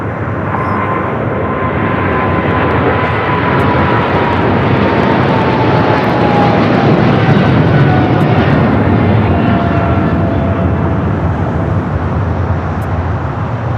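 An airplane taxiing at LAX, turning onto a taxiway, with a loud steady engine roar and a slowly gliding whine holding constant for the whole stretch.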